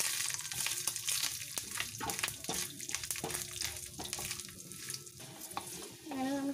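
Green chilies and onion fry in a pan with chana dal, giving a steady crackling sizzle broken by repeated stirring clinks and scrapes, with a tonal background running throughout.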